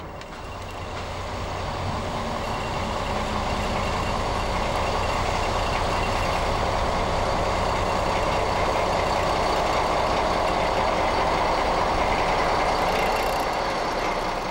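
DB V100 diesel locomotive hauling a local freight train, a steady, loud rumble of engine and rolling wagons lasting the whole stretch with no talking.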